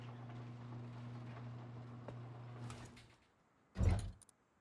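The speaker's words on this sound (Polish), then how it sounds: "Dobra, czekaj, otwieram drzwi." Game door opening during a raid, heard as a sliding, mechanical swish: a steady rumbling hum fades out, then a short, loud burst of door movement stands alone near the end.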